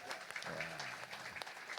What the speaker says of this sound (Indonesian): Tepuk tangan untuk panitia pemuda.